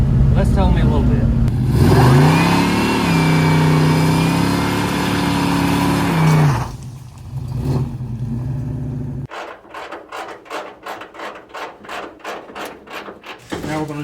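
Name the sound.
car automatic transmission downshifting while driving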